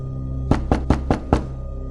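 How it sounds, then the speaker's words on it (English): Five firm knocks on a door in an even, fairly quick rhythm, close and loud over a quiet hum, then silence. "There came a pause, then the knocking resumed."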